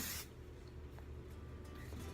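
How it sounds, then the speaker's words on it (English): Hairspray misted over freshly curled hair, a steady nearby aerosol hiss running for about two seconds, loudest at the start and then holding even. "Just spray the top, spray the bottom, that's it."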